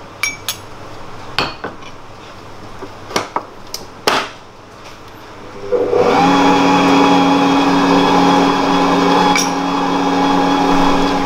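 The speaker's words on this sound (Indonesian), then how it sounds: "Kita aduk lagi sampai rata" A hand mixer whirs steadily for about five seconds, stirring cake batter with milk powder for a roll cake. A few light clinks of utensils come before it starts.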